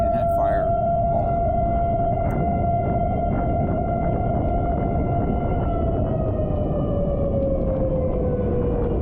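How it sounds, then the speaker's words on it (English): A fire company's siren wails loudly inside the fire hall, a steady sustained tone that slowly falls in pitch toward the end over constant low rumble. "The sirens are going off in the Avis Fire Company right inside the building."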